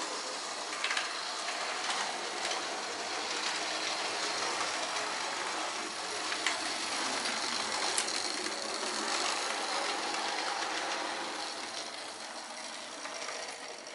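A small model train clatters along its track with a steady mechanical whirr and faint rhythmic ticking, continuous and fairly close.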